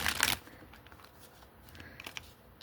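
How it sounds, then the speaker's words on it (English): A tarot deck is shuffled close by, opening with a brisk riffling burst, then quieter soft card slides and light flicks continue irregularly. "They feel really nice to shuffle."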